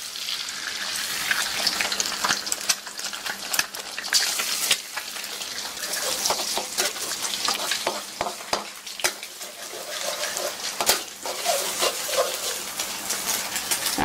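An egg drops into hot oil with garlic sautéed until fragrant, for spicy nyemek-style noodles, giving a loud crackling sizzle with popping spatters and stirring clicks that runs throughout, close to the pan, with no talking.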